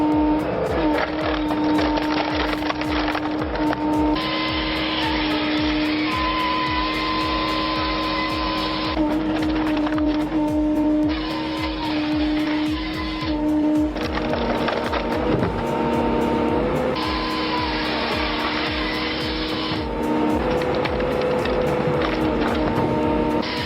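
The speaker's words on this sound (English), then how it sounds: "the machine easily cuts and splits the logs into 18 pieces" Rajamäki firewood processor cutting and splitting logs, a loud continuous mechanical roar with repeated bursts of harsh hissing noise from cutting cycles, steady and close, with no talk.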